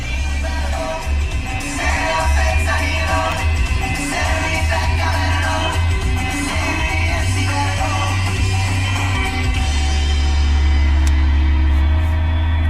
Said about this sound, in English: So let's see what the radio quality is like.